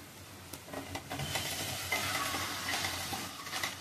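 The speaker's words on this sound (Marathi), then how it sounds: "त्यानंतर हिरवी मिरची टाकते." Green chilies hit a frying pan of simmering gravy for arbi bhaji, setting off a bright, crackling sizzle that swells and persists, mixed with light stirring scrapes, close and steady with no talking.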